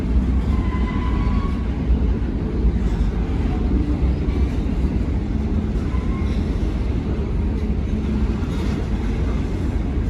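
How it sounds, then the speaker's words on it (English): Two trains pass slowly on a railroad bridge, giving a continuous low rumble of rolling cars and heavy machinery that stays steady and fairly loud, with faint higher squeals now and then. "So you got two trains actually passing right now."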